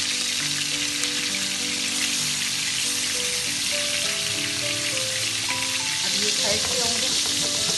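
Beef chapli kababs fry in a pan over a medium flame, giving a steady, close sizzle and crackle that lasts throughout, with someone speaking briefly and soft music tones playing underneath.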